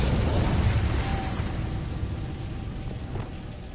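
The Incendio fire spell in Hogwarts Legacy, heard as a short, rumbling burst of flame that swells at once and then fades over a few seconds, with no talk.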